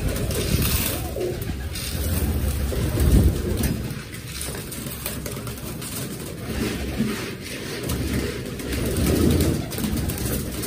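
Pigeons cooing softly in a loft while being fed grain, low murmuring coos repeating under a rustling, breezy background with no talk.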